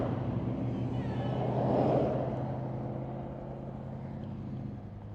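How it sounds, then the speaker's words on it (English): Heavy traffic rumbles along a busy road, a vehicle swelling louder as it passes close by and then fading into a steady engine drone. "Why are there so many loud vehicles here?"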